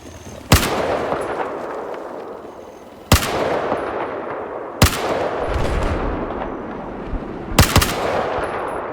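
Four loud, single gunshots from Battlefield 4 ring out several seconds apart, each with a sharp crack and a long reverberant tail, with no talking.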